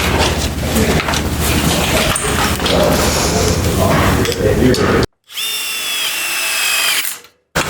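A power drill drives fasteners to secure the bottom posts of an HD pocket door frame to their brackets, a loud continuous whir for about five seconds, then a shorter higher-pitched run after a brief pause, ending in a quick burst.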